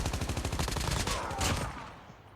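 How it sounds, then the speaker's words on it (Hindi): Rapid bursts of automatic gunfire in the Call of Duty video game, a fast rhythmic rattle of closely spaced shots that fades into a brief tail. "ये फायरिंग की आवाज़ आ रही, कोई फायरिंग कर रहा है मेरे ऊपर।"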